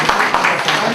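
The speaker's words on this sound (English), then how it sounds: "Can you give us a round of applause" An audience at a summit and book presentation breaks into dense, steady applause, loud and close, filling the whole brief moment.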